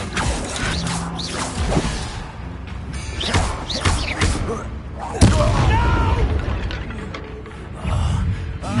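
A fiery Incendio spell bursts out during spell-heavy combat in Hogwarts Legacy, giving several whooshing, booming blasts with creaks and thuds among them. A voice talks over much of the action.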